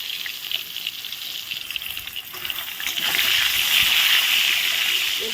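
Eggplant frying in a pan for a spicy Bengali dish is stirred, giving a steady hissing, sputtering sizzle that swells louder midway and stays close and continuous, with no talk.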